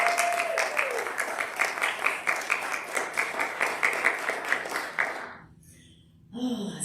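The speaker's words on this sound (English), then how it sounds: "Let's give them another round of applause." An audience at a Sunday church service claps in a lively round of applause that gradually thins and fades out, followed by a brief quiet gap and a voice starting to speak at the end.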